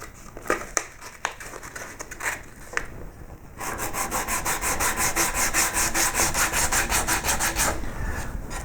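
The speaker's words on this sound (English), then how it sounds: "Then you can wrap that in a bit of sandpaper" Sandpaper wrapped around a rounded tool rubs back and forth along the carved tail flutes of a wooden koi carp, a few separate scrapes at first, then a steady, close, rhythmic rasping.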